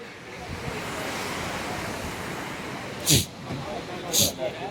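The Mandakini river rushes near the hot springs at Gaurikund, a steady broad roar of flowing water with a couple of brief gusty thumps near the microphone.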